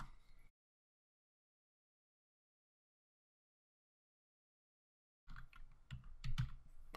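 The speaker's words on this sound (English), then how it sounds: "as I was typing" A brief clatter of typing on a computer keyboard, then several seconds of silence, followed by a quick burst of keystrokes.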